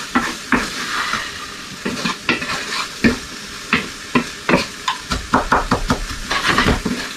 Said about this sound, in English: Just give them a little stir. As they cook, they're going to slowly release their natural juices and pick up all those bits from the steak.